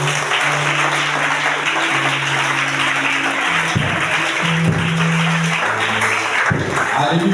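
Congregation applauding together at a church gathering in Buyo, a dense, steady wash of clapping that fills the whole stretch, with a sustained musical tone and some voices mixed in underneath.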